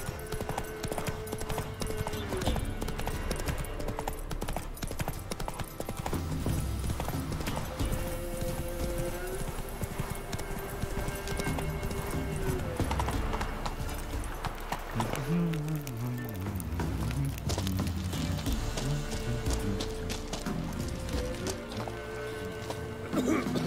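Roach, a horse in The Witcher 3 video game, gallops with rapid rhythmic hoof clip-clops and an occasional neigh, running under background music with a voice at moments.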